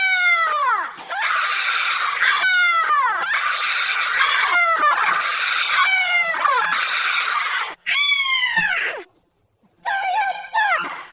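A man screams as loud as he can, long rising-and-falling howls repeated several times with brief gaps, in a Marine boot camp scene from Full Metal Jacket (1987), harsh and close.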